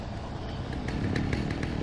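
A chainsaw-wielding enemy in the video game Alan Wake, set at a sawmill, revs a steady engine drone that grows slightly louder midway, with faint rhythmic pulses running through it.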